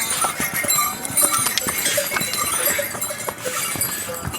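A horse's hooves clop and scuff unevenly on a rocky mountain trail, close by, among other animal and trail noise with a few faint voices.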